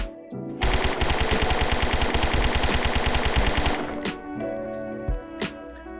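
Full-auto gunfire in the video game Zero Hour: Operation Black Dawn, a loud, rapid, evenly spaced burst of about three seconds, followed by a few scattered clicks and mechanical clatter.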